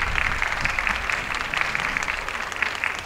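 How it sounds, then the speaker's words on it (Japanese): Applause from a crowd welcoming a yosakoi dance team at an outdoor festival, a steady dense wash of many hands clapping at fairly close range without pause. "大きな拍手でお迎えください。"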